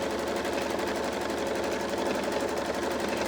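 A domestic sewing machine runs a steady, continuous fast stitch through layers of a couch quilt, loud and close with an even mechanical rattle throughout, no talking.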